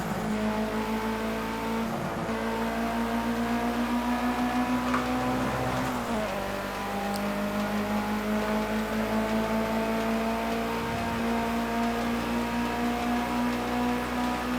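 A damaged Mitsubishi Evo IX with bent suspension and steering drives the Nordschleife in Project Cars 2, its engine droning steadily near and loud, pitch dipping briefly around gear shifts then holding a long even tone.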